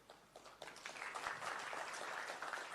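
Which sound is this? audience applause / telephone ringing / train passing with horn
audience applause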